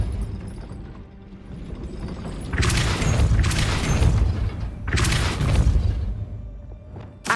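Depulso force spell cast in Hogwarts Legacy on PS5, heard as two loud whooshing blasts a couple of seconds apart, each a broad roaring burst over a low rumbling game backdrop.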